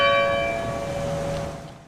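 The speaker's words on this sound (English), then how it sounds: "Bells rang in Burlington Tuesday night" A church bell in Burlington rings out at a memorial for COVID-19 victims with a loud, sustained toll that slowly decays, its harmonic ringing lingering for a couple of seconds.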